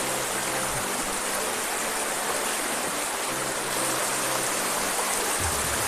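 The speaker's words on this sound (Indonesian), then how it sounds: "sekarang saya ada di sebuah sungai di daerah desa kami" A river stream near a village flows with a steady, close, continuous rushing and burbling of water, unbroken for several seconds.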